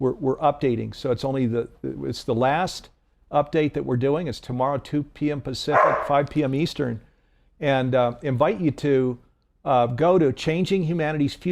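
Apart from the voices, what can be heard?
No everyday noises stand out.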